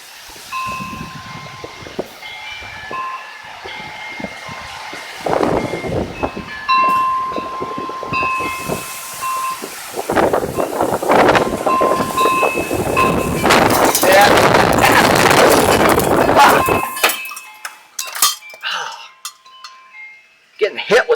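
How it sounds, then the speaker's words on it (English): Severe thunderstorm winds above 60 mph gust in North Platte, Nebraska, a broad roaring rush that builds to a loud sustained blast mid-clip before easing off near the end, with voices occasionally heard beneath it. "That was not a nice gust."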